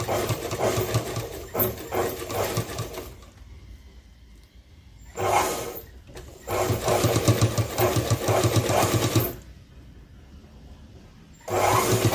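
A sewing machine stitches a seam alongside a zipper, leaving a small gap; loud close-up runs of rapid stitching come in bursts separated by quieter pauses.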